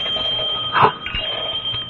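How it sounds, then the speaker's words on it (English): A front doorbell rings once in a radio drama, a short, bright chime that swells briefly and fades over a steady background hum, with no voices. "It's the front doorbell."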